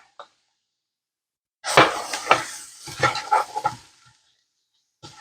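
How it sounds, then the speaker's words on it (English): Minced garlic goes into a pot of softened, translucent onions for potato soup, making a brief burst of scraping, clattering and light sizzling that lasts about two seconds and then fades. No one speaks. "we are going to add in our minced garlic"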